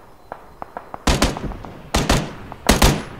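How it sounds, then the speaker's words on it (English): Gunfire in the video game PlayerUnknown's Battlegrounds: a few faint distant pops, then three loud close bursts of rapid shots in quick succession with no talking. "Oh, he's getting shot at."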